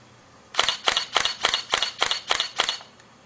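A Canon EOS 450D DSLR firing a continuous shooting burst at 3.5 frames per second: eight sharp, close mechanical shutter clacks in a quick, steady run, then silence.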